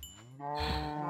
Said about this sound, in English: I shouldn't have had so much trouble hitting a cow